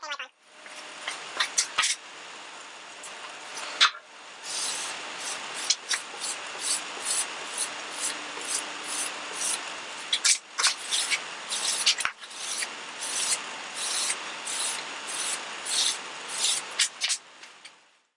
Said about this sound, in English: I'm going to be using a cotton rag to apply the polyurethane wipe-on.